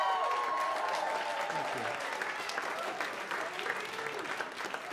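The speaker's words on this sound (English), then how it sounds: "I notice the women are applauding." Steady audience applause at a live stand-up comedy show in a club, a dense wash of clapping that holds for several seconds and fades slightly toward the end.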